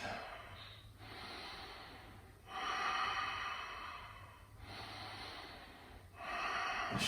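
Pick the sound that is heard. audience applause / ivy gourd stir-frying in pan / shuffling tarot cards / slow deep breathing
slow deep breathing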